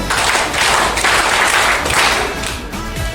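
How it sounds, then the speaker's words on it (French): An audience at a community event in Bayangam, Cameroon breaks into loud, dense applause, a steady wash of many hands clapping close by that tapers slightly near the end, with no talking. "Applaudissez pour elle."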